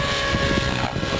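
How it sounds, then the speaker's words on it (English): A flybarless radio control helicopter flies at an RC club field, a continuous loud buzzing rotor and engine drone with steady tonal whine, close and sustained with no talk. "Brian's out flying his helicopter."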